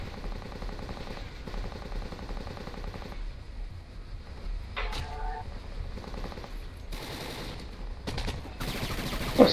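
Gunfire in Kane & Lynch 2: Dog Days crackles in sustained automatic bursts that fill the whole stretch, with a few sharper louder shots and an Italian voice briefly audible beneath the shooting.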